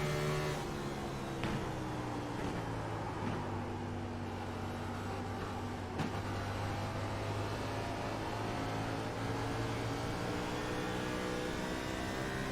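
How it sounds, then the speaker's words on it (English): A race car engine at Phoenix Raceway drones steadily on board, a loud sustained harmonic whine with brief pitch jumps where it over-revs as the car gets loose, with no talk. "You'll be able to hear the over rev for when he gets loose."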